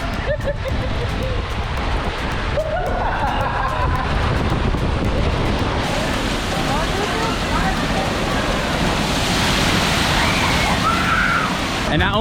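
Water dumps from a bucket at a splash pad on the MSC Meraviglia cruise ship, a loud continuous rush and splash that surges stronger partway through and keeps pouring to the end.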